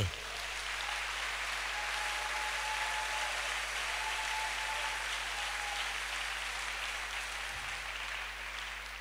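A church congregation claps steadily through the whole stretch, a dense, even wash of applause filling the worship hall at a constant level without any break.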